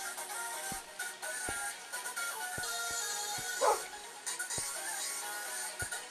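A tamed dog in the Minecraft video game gives a few short barks and whimpers, spaced irregularly over steady game background sound, with no voices.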